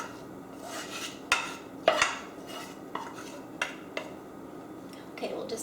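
Lentils and quinoa taco meat stirred together in a pan, a spoon scraping and clinking against the sides in scattered close knocks with soft shuffling between.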